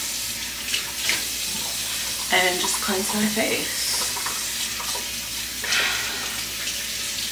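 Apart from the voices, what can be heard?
hot water running from tap for face washing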